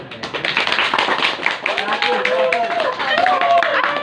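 An audience applauds a student reader before he reads his own short story: dense, close clapping that fills the whole stretch, with voices calling out over it.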